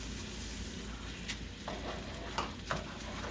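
Uncooked jasmine rice sizzling in a pan with chorizo, a quiet steady hiss of frying with a few soft stirring scrapes, no talk.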